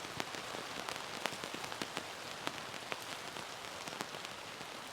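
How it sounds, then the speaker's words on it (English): Steady rain drums on a tarp stretched over a car camping setup with a huge tent, a dense, even patter broken by sharper individual drips, with no voices. "And the rain is coming down."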